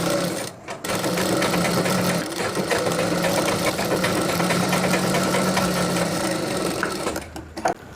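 A sewing machine runs a steady, continuous stitching burst up close, stitching a folded cross piece of fabric for a chudidhar sleeve with piping, briefly pausing at the start and stopping near the end.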